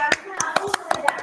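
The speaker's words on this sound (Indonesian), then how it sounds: "Kita berikan aplaus untuk kelompok 1." Brief burst of applause for a group in a classroom setting, a handful of sharp irregular hand claps with voices mixed in.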